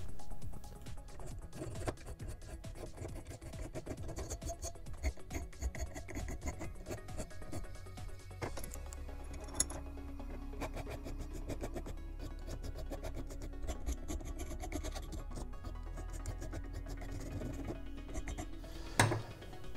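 Sharp corners of a Boba Fett jet pack part being rounded off by hand in a bench vise, a steady close rasping and grinding that runs on without a break, with occasional knocks and shifts in tone.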